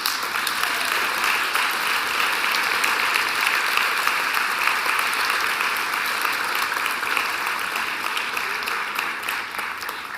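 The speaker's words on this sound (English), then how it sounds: "give them a huge round of applause" Sustained, dense applause from a large audience at an opening ceremony, loud and even throughout with no talking.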